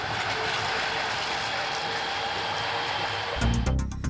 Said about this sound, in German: Oder mit der neuen Skyline-Bahn.